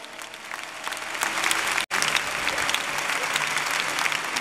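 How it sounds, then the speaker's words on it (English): A church congregation claps their hands during a worship service, a loud, continuous wash of clapping that briefly drops out for an instant midway and then resumes at full strength. "Clap your hands, let me know you are in agreement with me."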